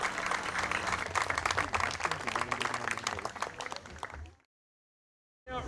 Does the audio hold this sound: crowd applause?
yes